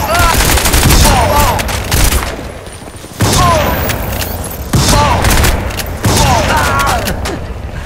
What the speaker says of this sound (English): I just love shotgun.